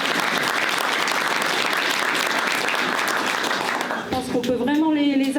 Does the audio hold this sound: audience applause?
yes